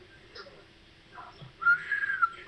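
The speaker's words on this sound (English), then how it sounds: "Why are you whistling?" A person whistles a short, faint wavering tune near the end, a few high pure tones rising above a quiet room background with no talking.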